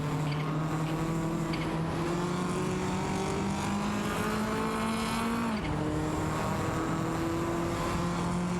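A Porsche 968 Turbo RS and a BMW in a video game race give a continuous, loud, high engine whine. The pitch climbs steadily, drops at a gear change midway, then rises again.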